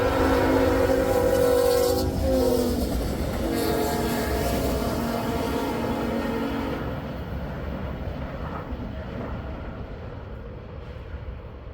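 BNSF locomotives pull a train past on a CSX line, a loud diesel rumble with a horn blast early on, the engine noise fading into steady rolling wheel clatter as it moves by.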